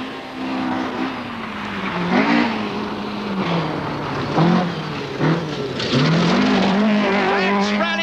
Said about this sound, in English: as Per Eklund comes through